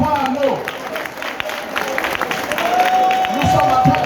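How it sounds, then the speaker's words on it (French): Crowd applause at a community announcement of a new cultural centre plan, a steady wash of many clapping hands with scattered cheers beneath an amplified voice talking over it. "On applaudit ça."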